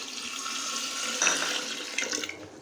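Water poured into a bowl while mixing Ugadi pachadi with jaggery and soaked tamarind, a steady splashing pour lasting a couple of seconds, close and fairly loud, with no talking.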